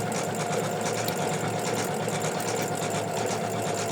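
An embroidery machine stitches a tree design for an in-the-hoop sequin bookmark, giving a continuous, close, fast mechanical chatter and hum with an even, steady rhythm.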